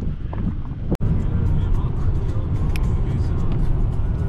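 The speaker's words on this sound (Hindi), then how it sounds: "गाड़ी अभी गाइस 150 की स्पीड पे चल रही है, 151 हो चुकी है।" A car cruises fast on a smooth road in Kazakhstan, with steady engine and road rumble and wind noise filling the cabin, broken by one brief knock near the start.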